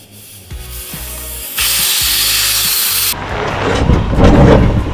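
Harsh grinding and scraping of a vehicle's metal skid plate against rock on an off-road trail in Joshua Tree, loud and close, with rumbling bursts and rough rubbing that intensifies toward the end.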